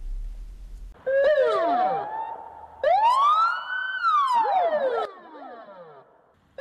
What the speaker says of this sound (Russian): с включенными сиренами мчится полицейская машина